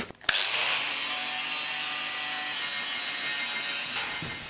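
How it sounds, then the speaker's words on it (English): An angle grinder grinds down welds on an old rusty steel patch panel, opening with a brief clank and spin-up, then a steady, loud, high-pitched whine held close for several seconds. "I like to first just do an approximate grind, just more or less, so I can check for pinholes"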